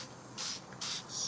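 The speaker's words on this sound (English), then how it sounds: "Could use the spray to clean it up a bit." A spray bottle used to clean up houseplants gives three short hissing spritzes in an uneven rhythm, close and soft in a quiet room.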